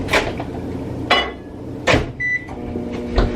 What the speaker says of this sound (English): let me put it in the microwave for 30 seconds